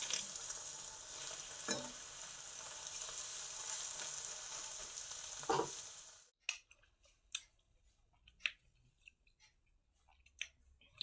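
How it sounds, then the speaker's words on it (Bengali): An egg fries in butter in a pan with a loud, steady sizzle for about six seconds, then goes quiet, leaving only scattered small clicks and taps nearby. "ডিম ভাজাটা যে হচ্ছে একদম বাটার সমেতই"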